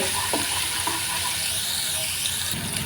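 Steady sizzling of spice paste frying in a pan on low heat, with a few soft stirring scrapes and a brief clatter near the end.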